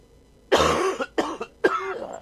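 Three harsh coughs close to the microphone, one long followed by two shorter bursts in quick succession.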